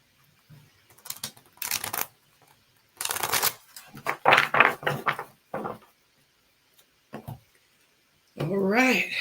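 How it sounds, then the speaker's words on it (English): Tarot cards riffled and shuffled in several short bursts with pauses between, close up, and a voice speaks briefly near the end. "One more shuffle."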